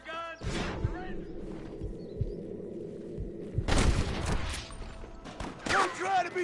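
Gunfire in the Red Dead Redemption video game, with a few sharp shots and a burst of fire among shouting voices and talk, cutting in loudly at intervals.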